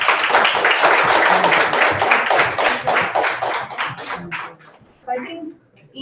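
An audience at a national student innovation challenge session breaks into dense, loud applause that gradually thins out and fades, with voices coming in as the clapping dies away.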